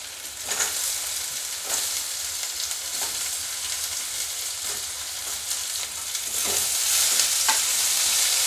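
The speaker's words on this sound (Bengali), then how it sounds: "আলুটাকে আমি ভালোভাবে ভেজে নেব" Potatoes frying in a pan with onion and green chilli, stirred now and then, giving a steady close hiss of sizzling oil broken by soft scraping strokes, louder toward the end, with no talking.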